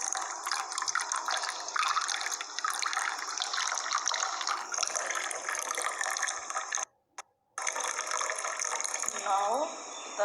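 Water poured from one glass into another as it fills, making a steady, close splashing gush that runs continuously, with a brief break near the end.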